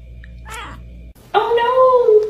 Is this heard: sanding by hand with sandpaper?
no